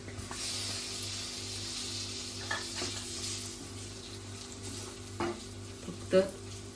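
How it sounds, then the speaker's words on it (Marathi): Tomatoes sizzle in hot oil in a pan, with soft stirring and a few clinks of a utensil against the vessel, close and steady, no voices. "तेलावरतीच टोमॅटो घालते"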